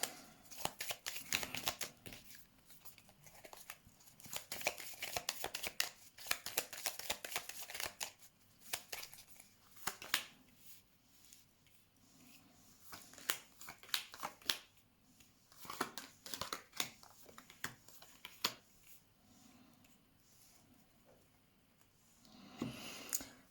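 A deck of cards is shuffled close by in repeated riffling bursts, with brief pauses between rounds and no talking.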